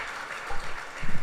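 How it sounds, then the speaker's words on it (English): Brief patter of audience applause during a Sunday service at a Krishna temple, a short burst of clapping from a moderately sized crowd, fairly soft and diffuse. "Please give them a round of applause once more."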